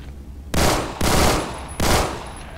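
Gunfire from a pistol, likely a Glock, in the Roblox shooter Phantom Forces: three loud, close bursts of shots, each lasting about half a second, separated by brief gaps, with no talking.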